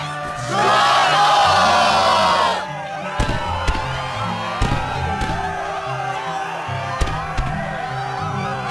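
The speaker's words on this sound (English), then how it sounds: "the crowd is fired up, so you know what comes next" A roaring crowd cheers loudly for about two seconds in Kingdom Hearts II, then fades into game music with sharp percussive hits and shouts.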